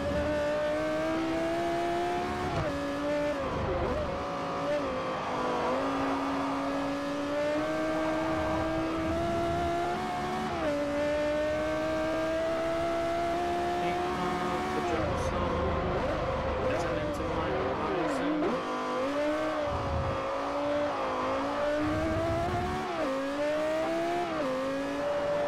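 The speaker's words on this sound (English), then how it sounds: "Yamaha did the exhaust for this, didn't they?" Race car engine with a Yamaha-tuned exhaust in the Forza Motorsport 4 racing game, a loud sustained wail that rises and falls through gear changes for the whole stretch, with voices talking over it.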